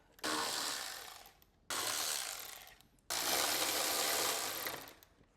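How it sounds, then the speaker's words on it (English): A ratchet removes three 11mm bolts from the tail light of a 2023.5-or-later Harley motorcycle, heard as three close, loud bursts of rapid clicking, each lasting one to two seconds. "now we're going to remove these three 11mm or 7/16 bolts"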